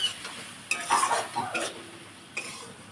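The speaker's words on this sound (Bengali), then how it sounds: "কেটে রাখা পেঁয়াজ, পেঁয়াজটা ওর সাথে ভেজে নেব।" Chopped onions fry in a pan with a close sizzle, broken by a few sharp stirring scrapes and clinks of a utensil.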